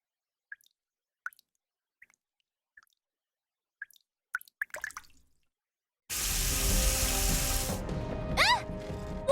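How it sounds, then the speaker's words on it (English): Water drips and trickles from a cracking ceiling in a NIKKE x Stellar Blade cutscene: a few isolated drip clicks over near-silence, then a sudden loud, steady wash of splashing, pouring water. "Water's coming from the ceiling!"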